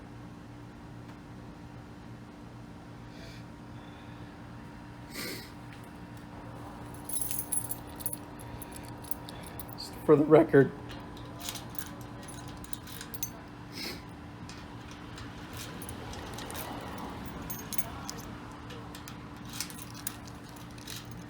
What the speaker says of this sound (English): These are the 3 keys I was given.